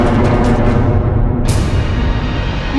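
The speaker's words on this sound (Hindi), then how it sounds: "ये तो दशानन की गदा की ध्वनि थी स्वामी।" A dense, roaring battle sound effect for a mythological TV drama, standing for the demon king Ravana's mace striking. It gives a loud, continuous rumbling crash with a sharp bright burst midway and no voices.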